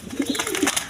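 A short, close burst of low cooing comes from Jharna satin pigeons at a pigeon market, two or three throaty notes in quick succession.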